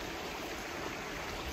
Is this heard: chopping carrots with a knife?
no